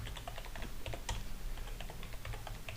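Fingers type steadily on a computer keyboard, a close run of quick, light key clicks with irregular rhythm and no talking.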